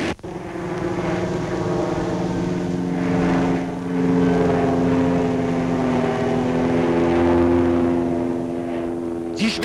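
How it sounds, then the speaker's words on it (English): Small aircraft taking off from snow at 2,800 metres altitude in the Swiss mountains, a loud steady propeller engine drone with a strong low hum that holds throughout, close and continuous. "Will the exceptionally bold takeoff in the snow be successful?"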